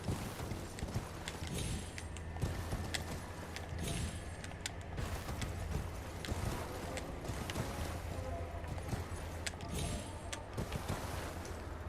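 Steady clip-clop of horse hooves in the video game Elden Ring keeps a regular rhythm over a constant low mechanical hum, with occasional faint clicks and creaks.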